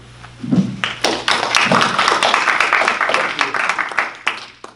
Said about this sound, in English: I see a lot of you clapping against single payer.